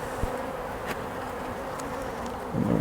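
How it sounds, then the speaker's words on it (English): Honeybees buzzing steadily inside a poly hive during autumn feeding, a dense continuous drone close by with a brief tap near the start and a louder rustling bump at the end. "I'm just going to shake the bees off"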